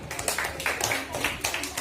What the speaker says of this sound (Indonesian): Ya, tepuk tangan yang meriah.